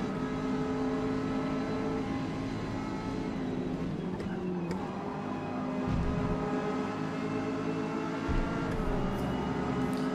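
Ginetta G40 race car in the Forza Motorsport video game, its engine droning steadily with a sustained tonal hum and slight pitch shifts, loud and continuous throughout, no talking.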